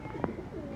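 Pigeon cooing nearby, a short low coo with one brief sharper note.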